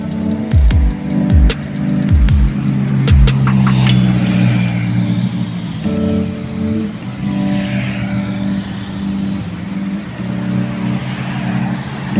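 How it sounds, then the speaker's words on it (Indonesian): A JRG Scania tronton intercity bus on the Aceh–Medan road passes nearby, its heavy, loud engine drone rising and then fading, with a few sharp mechanical clicks at the start and no speech. "bus JRG Tronton Scania juga lewat teman-teman"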